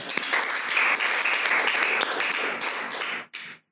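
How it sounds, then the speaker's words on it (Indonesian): Steady applause from a studio audience on a handball-themed talk show, dense and fairly close, holding evenly for about three seconds before cutting off abruptly, with a brief final burst. "Tepuk tangan dulu. Tepuk tangan."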